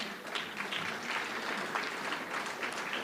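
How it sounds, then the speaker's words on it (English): Steady, even applause from a conference audience, fairly distant and soft, sustained throughout with no talking over it. "Let's give a round of applause for these fine gentlemen"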